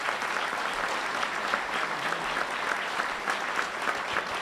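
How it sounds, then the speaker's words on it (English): An audience at a press club luncheon applauds a speaker, a dense steady wash of many hands clapping, fairly distant and sustained throughout with no talk over it. "How about another round of applause for our speaker?"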